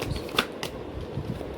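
Tarot cards being shuffled during a reading, a short papery riffle with a couple of crisp snaps over a low background hum, close and fairly quiet.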